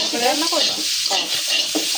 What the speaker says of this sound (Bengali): চিংড়ি মাছ মশলাটা দিয়া ভালো মতো ভালো মতো কষা নিতেছি